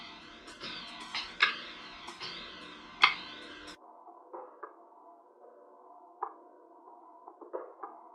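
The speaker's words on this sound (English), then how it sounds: "I used one of Phantom's percussive loops and it sounds like this." A Phantom percussive drum loop of light ticks and clicky hits sounds in an irregular, textured rhythm, faint and thin, dropping quieter and sparser midway through.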